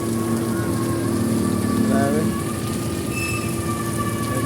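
Heavy rain pours down steadily in a broad, loud hiss with a low rumbling undertone, continuous throughout.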